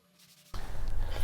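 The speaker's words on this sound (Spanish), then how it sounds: "para finalizar, una lija con bastante agua a mano detallamos" Quiet rustle, then abrupt loud, steady gritty scraping of hand sanding a concrete planter with wet sandpaper, close and continuous, no voices.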